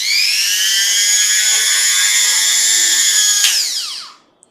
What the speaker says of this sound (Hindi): अब मैं जरा आपको मशीन चला के दिखाता हूं। मशीन ऑन करता हूं।